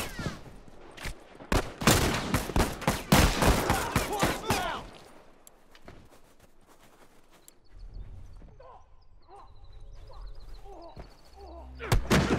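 Rifle gunfire in The Last of Us, with a dense run of loud sharp shots in the first half, then a quieter stretch of scattered sounds and a final burst of shots.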